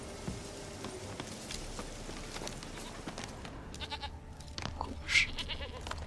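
Goat bleating in the video game The Witcher 3: Wild Hunt, a few short bleats at moderate distance over a busy background of footsteps and clattering game ambience, with one sharper bleat near the end.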